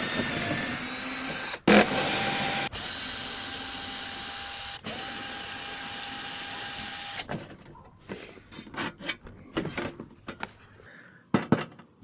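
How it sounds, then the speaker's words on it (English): Close bursts of a power driver spinning out 10mm bolts from the underside shield of a Honda Insight, several whirring runs separated by short pauses, followed by lighter clinks and handling noises. "You got to remove this shield held on by 5 10mm headed bolts"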